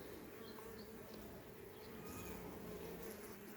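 A newly settled Buckfast honey bee colony hums in a faint, steady buzz from a hive, unbroken and soft throughout.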